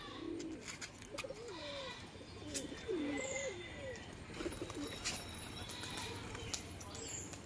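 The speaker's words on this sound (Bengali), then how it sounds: "দেখুন এই দুটো অনেক পুরনো পায়রা" A pair of old domestic pigeons coo close by, with low, rolling calls repeated throughout over a steady background hum, and a few faint chirps mixed in.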